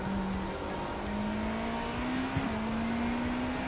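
An IMSA race car in iRacing at Watkins Glen: a steady engine drone climbing in pitch through the gears, with a quick shift blip midway, heard from the cockpit at moderate loudness with no talk.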